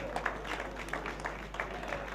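An audience at an award ceremony claps, a scattered, moderate patter of applause rising in short bursts over a low steady hum, with a voice faintly present underneath.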